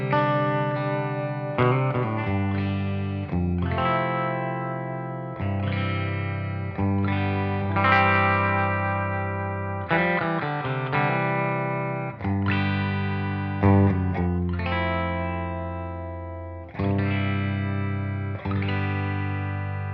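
Ivison Hurricane '59 electric guitar with a maple top played clean, ringing chords and arpeggios strummed in steady phrases with sustained, bright tone and some chorus-like shimmer, loud and close with no talking.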